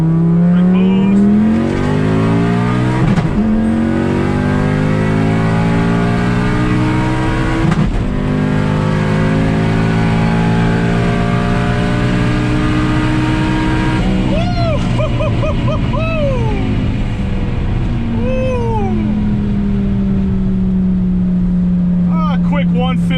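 Turbocharged car fitted with a Borg Warner S257sxe turbo accelerating hard: loud, close engine roar climbing steadily in pitch through the gears, with brief dips at shifts and whistling turbo and blow-off sounds near the end.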